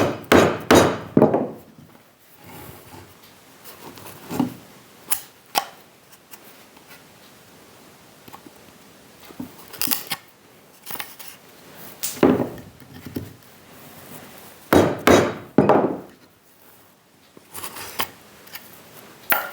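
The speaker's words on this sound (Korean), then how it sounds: "망치질을 하시면 됩니다" A hammer strikes traditional wooden lattice joinery during Korean heritage carpentry repair, landing in irregular clusters of sharp, close knocks separated by quiet pauses, with no talking.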